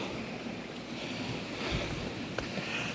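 Stream water in Mansehra flows steadily in a continuous, even wash, with a wind-like hiss and no talking.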